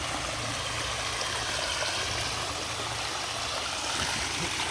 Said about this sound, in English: that's a cool little waterfall